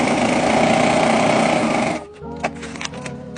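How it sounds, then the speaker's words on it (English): Sewing machine stitching along the edge of fabric, a loud steady motor whir with rapid needle rhythm for about two seconds, then stopping into faint clicks and handling noise. "And then you're just going to stitch right along the very edge."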